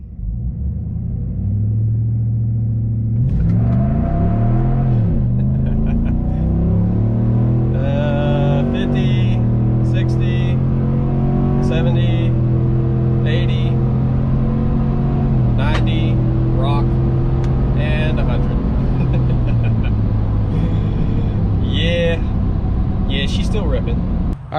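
A 2021 Chevrolet Silverado pickup engine accelerates, its droning rumble rising and falling in pitch through several shifts, loud and steady throughout.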